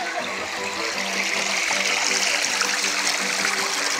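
Flowing water at a mining attraction runs in a steady, continuous rush and trickle, moderately close and alone, with an even splashing texture throughout.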